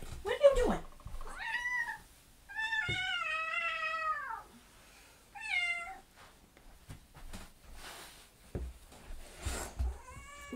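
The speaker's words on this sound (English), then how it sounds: "This cat, she comes in here and she eats plastic." An old female cat meows several times indoors, drawn-out rising and falling cries at close range, with someone talking in between.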